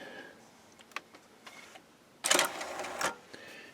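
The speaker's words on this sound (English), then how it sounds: "let's eject the disc" A Mission PCM II CD player ejecting its disc: faint clicks, then a brief loud mechanical whir of the tray motor and a final clunk, close up with no talking.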